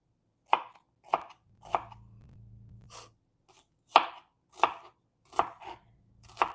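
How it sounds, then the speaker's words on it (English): A knife chops through an onion in a home kitchen for tacos, eight or so crisp, separate thwacks on a cutting board at an uneven pace, close and clear with no talk. "I'm going to cut the rest of this real quick"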